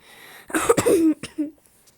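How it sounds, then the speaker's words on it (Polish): A single close, rough cough bursts out with a raspy throat sound, followed by a short quieter follow-up, then silence. "no co cię tak kaszel bierze"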